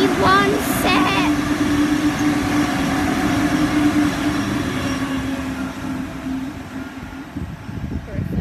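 An A set train rumbles past at Padstow station, a steady loud rail roar with wheel noise lasting throughout, fading slightly toward the end.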